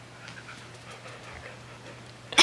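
A dog pants softly and rhythmically close by, its quick breaths faint over low background noise, ending with a brief louder burst.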